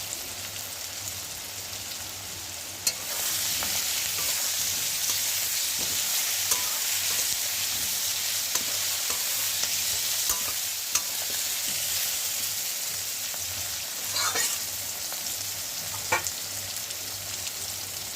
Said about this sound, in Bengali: পেঁয়াজটা আমি দিয়ে দিয়েছি কড়াইয়ের মধ্যে। অনেকক্ষণ আলুটার সঙ্গে ভাজা ভাজা হচ্ছে।